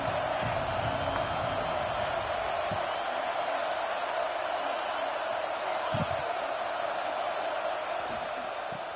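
Stadium crowd in a college football video game, Miami against Nebraska, roaring steadily as a dense, unbroken wash of noise that holds at the same level throughout.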